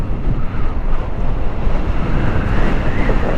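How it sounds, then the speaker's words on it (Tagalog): Strong wind buffets the microphone during a Kukirin G2 Pro e-scooter ride around a port in Denmark, a loud, constant roaring rush with no pauses. "Lakas ng hangin."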